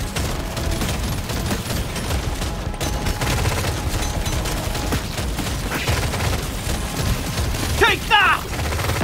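Smart rifle gunfire in Deep Rock Galactic: Survivors, fighting off a big swarm on a Hazard 5 mission in the Azure Weald, crackles as dense rapid bursts over a busy wash of game noise, with a sharper mechanical flurry near the end.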